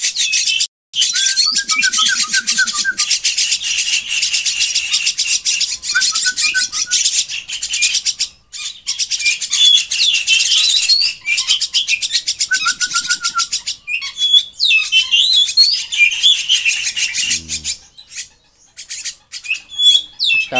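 Five young jalak starlings chirp nonstop while being fed outdoors, a loud, dense chatter of shrill calls close by with brief pauses, occasional wing flutters and lower squeaks.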